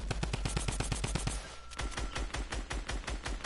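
Rapid automatic gunfire in the video game Fortnite, a fast steady burst of loud shots that pauses briefly, then resumes in a slightly slower irregular rhythm, with no talking.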